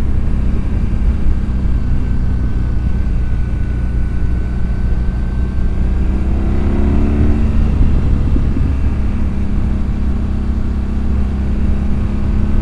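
A 2007 BMW 1200GS motorcycle engine is heard while riding: a loud, steady, close drone with wind rush throughout, its pitch shifting and easing off midway before settling back into a constant hum.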